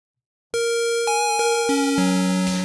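A bright, hollow square-wave tone from a Yamaha Reface DX synthesizer holds steady and then steps down through several lower pitches, loud and alone after a moment of silence.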